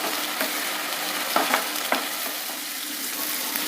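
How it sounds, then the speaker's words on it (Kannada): Avarekalu beans fry in oil for a tempering, a soft steady sizzle with a few spoon stirs and scrapes against the pan, close and quiet, no talk. "ಅವರೆಕಾಳಿನ ಹಸಿ ವಾಸನೆ ಹೋಗೋವರೆಗೂ ಎಣ್ಣೆಯಲ್ಲಿ ಚೆನ್ನಾಗಿ ಹುರಿಬೇಕಾಗುತ್ತೆ"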